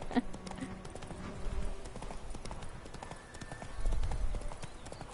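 Rapid clip-clop of galloping horse hooves in The Witcher 3: Wild Hunt, steady and close, with a few synthetic game tones and a brief low thump near the end.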